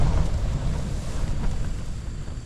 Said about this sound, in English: With all this kind of whoosh and blare with the wind